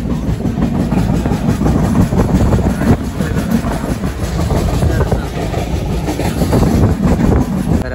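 A passenger train runs over the rails near the Zuari bridge in Goa, a loud, steady rumble with rhythmic clickety-clack heard close up from inside a coach throughout.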